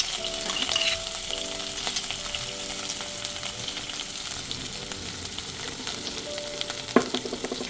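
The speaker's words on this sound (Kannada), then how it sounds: "ಇದರ ಹಸಿ ಸ್ಮೆಲ್ ಹೋಗೋ ತನಕ ಇದು ತುಪ್ಪ ಮತ್ತು ಎಣ್ಣೆಲೇ ಫ್ರೈ ಆಗಬೇಕು." Crushed green chilli, coriander leaves and mint sizzle steadily in hot ghee and oil for an Andhra-style chilli chicken gravy, a continuous close frying crackle with occasional stirring clinks and no talk.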